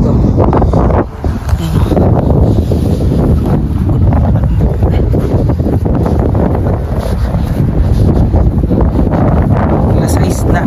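Strong wind buffets the microphone outdoors in Canada, a loud, continuous roaring rumble that stays heavy throughout and masks most other sound.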